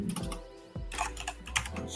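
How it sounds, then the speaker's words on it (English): Rapid typing on a computer keyboard while coding in nvim, with dense clusters of close, crisp keystrokes broken by a short pause, and no speech. "I am typing on nvim"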